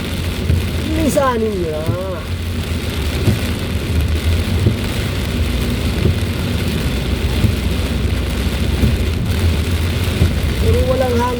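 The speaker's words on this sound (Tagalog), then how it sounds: "yung ulan, parang galit na galit yung ulan" Heavy typhoon rain pours steadily during a road trip, a dense continuous wash with no wind, while a voice speaks briefly near the start and end.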